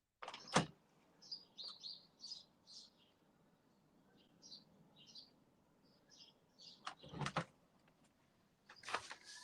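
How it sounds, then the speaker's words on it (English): Birds chirp faintly in short, repeated bursts of high tweets, broken by a few louder, sharp knocks or clunks nearby. "I hear the birds."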